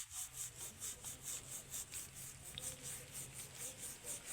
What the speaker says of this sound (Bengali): এইবার আমি কিন্তু ব্রাশের মধ্যে কিছুটা নিয়েছি, দিয়ে শাঁখাটা ঘষে নেব ভালোভাবে।